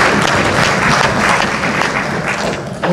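Crowd applause for a women's basketball team in an indoor hall, dense continuous clapping filling the space, loud and steady throughout.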